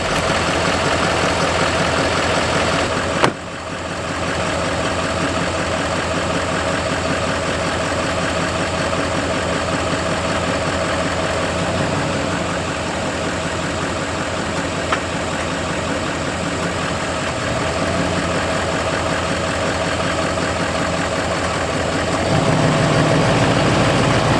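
The diesel engine of a lifted Duramax truck runs in mud, heard as a steady, loud, low idle-like drone with a brief thump early on and a slight rise in level near the end.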